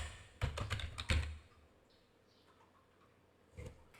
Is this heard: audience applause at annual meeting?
no